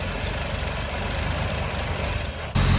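A 1952 Hudson Hornet with the Twin H setup and 6-volt system runs on poor-quality fuel, a loud, steady rumbling idle close by that shifts and steps up in level near the end.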